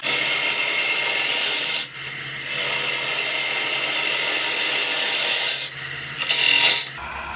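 A bowl gouge cuts into a wooden chip-and-dip platter spinning on a lathe, giving a loud, steady rasping roar that breaks off briefly twice as the tool lifts away and then resumes.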